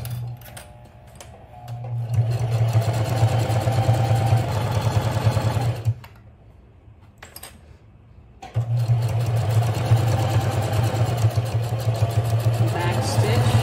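A sewing machine stitches a bag in two long running bursts with a steady mechanical whir, broken by a quiet pause midway while the work is adjusted.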